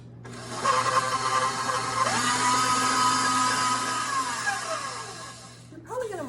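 An electric mixer beats butter and sugar for chocolate covered cherry cookies, a steady close whir running several seconds, its pitch shifting as the load changes, then winding down before a short restart.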